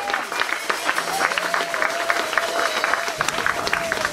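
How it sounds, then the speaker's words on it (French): Congregation in a Rotterdam church applauding and cheering to welcome a visiting pastor, steady dense clapping with a voice and crowd noise running over it throughout. "Oh, gloire à Dieu, on acclame pour nos bien-aimés. Applaus."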